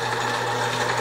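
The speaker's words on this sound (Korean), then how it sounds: "지금은 안과 덧단의 겉을 마주대고 박아주세요." A sewing machine runs in one continuous, even high whir, stitching the placket of a flannel check shirt, close and steady with no talking.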